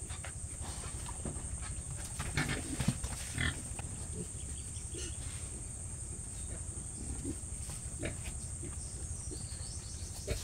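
Pigs on a Philippine farm, a breeding sow brought in to a large boar, grunt and shuffle in short bursts over a steady hiss and a high insect-like drone, with no talk.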